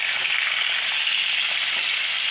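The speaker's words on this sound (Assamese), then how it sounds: "এতিয়া মাছখিনি ভাজি ল'ম" Fish fries in hot oil in a pan, a dense, even sizzle heard up close and loud, steady with no pauses or voices.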